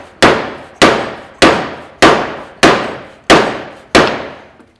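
A soft hammer pounding a hand plane blade, seven sharp evenly spaced strikes, each a loud close crack with a brief decaying ring.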